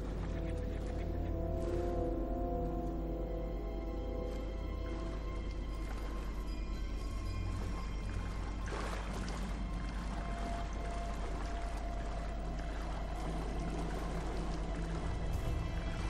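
Steady rushing flow of water in a dim, grimy area in Crysis 3, a continuous wash of noise with low hums underneath and no voices over it.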